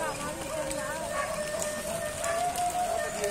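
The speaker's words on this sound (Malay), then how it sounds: "Hujan sobat, ini terasa kawan-kawan bikin tenda. Karena hujan." Steady rain patters on a makeshift tent nearby, a continuous hiss with scattered drops, while someone talks over it.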